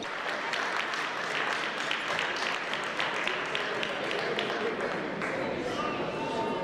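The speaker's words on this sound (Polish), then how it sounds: "Proszę Państwa, brawa dla mistrzów Polski." An audience at a sports awards gala applauds national champions, a continuous wash of many hands clapping at moderate distance, with a voice speaking faintly underneath.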